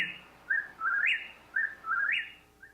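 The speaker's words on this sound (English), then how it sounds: "That's the nightingale." A nightingale sings alone in short repeated whistled phrases, each rising then swooping, heard at moderate loudness with quiet background between phrases.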